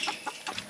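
Cornish bantam chickens, small meat-breed birds, cluck in short rapid bursts, several soft calls close by with no one talking.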